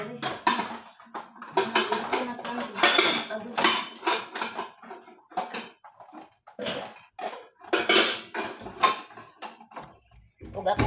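A cooking pot and dishes are handled in a home kitchen, with clattering metal and cutlery clinks in irregular bursts, close and fairly loud, while someone talks between the knocks.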